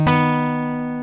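A minor sixth interval struck once, ringing clearly and fading over about a second, with no voices.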